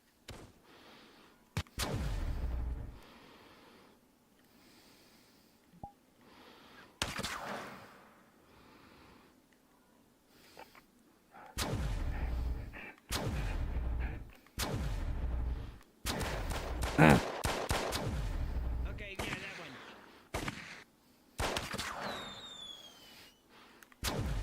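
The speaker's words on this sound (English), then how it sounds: "Shoot the wound, not to kill, Indy." Gunfire in a tense standoff, with loud, sharp broadband blasts in separate bursts spread through the scene, some single and some clustered, and quieter gaps with low rumble between them.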